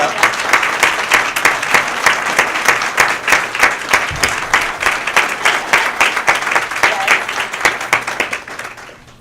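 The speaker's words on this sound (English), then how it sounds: "Please stand so we can give you a round of applause." A gala audience applauds the event chairs of the 2015 Windsor Shad Derby with loud, steady, rhythmic clapping that holds throughout and trails off at the end.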